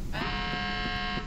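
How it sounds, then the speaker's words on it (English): A loud electronic alarm buzzer sounds in a steady, continuous harsh tone, starting abruptly and sustained close and unbroken throughout. "Well, thank god the alarm stopped."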